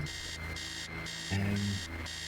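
In the video game Stories Untold, an alarm clock rings with loud, steady electronic beeps in regular on-off bursts. A short low tone cuts in partway through, and no one talks.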